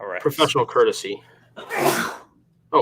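A single loud, close sneeze bursts out after a stretch of conversational speech, with a short voice returning right after it.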